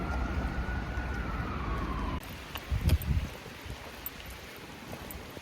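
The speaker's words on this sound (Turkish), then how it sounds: "Fransa'da yağmur altında yürümek." Steady rain patter in Paris, France, with low rumbling noise, dropping in level halfway, then a few louder close splashes and taps.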